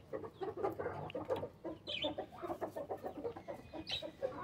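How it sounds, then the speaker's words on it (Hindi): Chickens and a rooster cluck and chatter nearby in an irregular, busy rhythm, with a few sharper squawks rising above the steady farmyard murmur. "तो ये मुर्गा अंदर था, मैं जो है इसको बाहर लेकर आ गया।"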